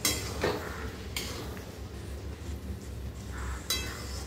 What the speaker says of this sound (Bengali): দিয়ে একবার ফাইনাল নাড়িয়ে আমি বন্ধ করে দেবো 1 মিনিট মতো।